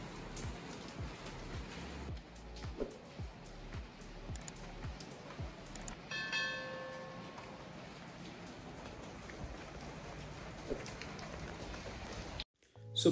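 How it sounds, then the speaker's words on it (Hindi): Continuous heavy rain falling during a monsoon-like downpour, a dense steady hiss with scattered drops and splashes, close and sustained, ending abruptly. "बारिश तो रुकने का नाम ही नहीं ले रहा है"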